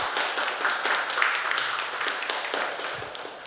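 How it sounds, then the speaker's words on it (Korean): Audience applause greeting a keynote speaker at a 2025 Arumjigi Academy lecture event with the NC Cultural Foundation: dense, steady clapping from a crowd that holds at an even level for several seconds, with no one speaking. "큰 박수로 맞이해 주시기 바랍니다."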